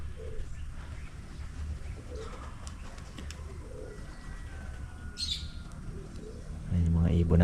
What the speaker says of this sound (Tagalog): yung mga ibon natin mga ka-farmer, nakakatuwa